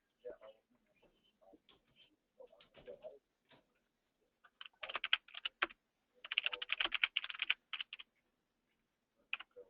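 Computer keyboard keys clatter in quick, uneven bursts while a chat message is typed, with short pauses between clusters of keystrokes; a voice talks softly in the quieter stretches.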